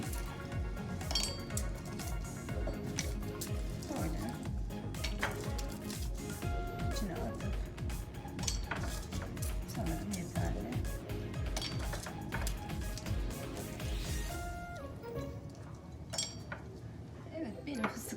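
Eggshells pounded in a mortar, giving repeated dense clinking, crunching strikes at close range throughout, easing off near the end.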